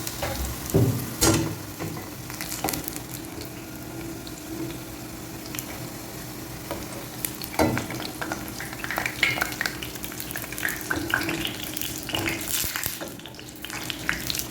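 Wheat and potato stick dough poured into hot frying oil crackles and sizzles steadily, with intermittent stirring and scraping clatter throughout, close and fairly loud.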